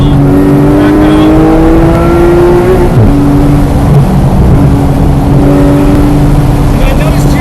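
A Porsche GT3's engine revs hard on the Buttonwillow Raceway track, its pitch climbing and dropping through gear changes under loud, continuous wind and road roar, with people talking over it.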